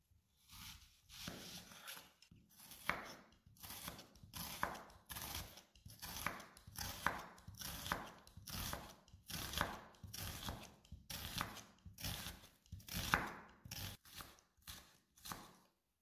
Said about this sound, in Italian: Le cipolle avete visto, le ho già tagliate, le ho affettate finemente.